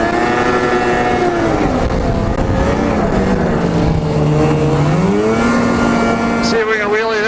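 A snowmobile ridden through fresh snow after a storm revs hard and loud up close. Its harmonic engine whine sweeps up and down in pitch as the throttle changes, ending in a quick high rise.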